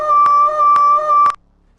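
A long, sustained tonal howl, credited to Bigfoot, holds steady with harmonic layers and a slight yodel-like wavering, broken by three sharp clicks before cutting off abruptly into near silence.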